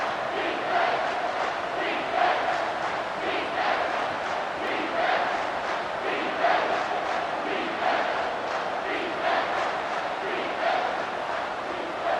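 A stadium crowd roars continuously during a big third-down play in the EA Sports College Football 25 video game, a dense, steady wall of cheering with gentle swells throughout.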